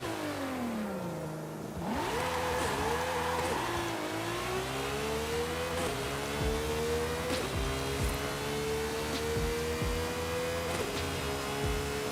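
A Lamborghini drives under a continuous engine drone that shifts pitch repeatedly, revving up and settling between gear changes, heard from inside with no talking.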